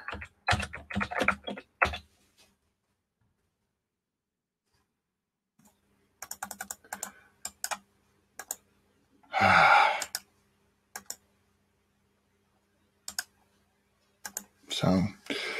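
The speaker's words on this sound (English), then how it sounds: "typing while talking, kind of hard for me" Bursts of clicky computer-keyboard typing come in quick clusters separated by silent pauses, close to the microphone, with a short sigh or breath in the middle and no speech over the keys.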